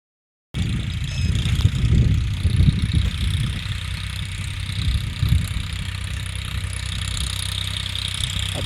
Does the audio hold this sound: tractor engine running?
yes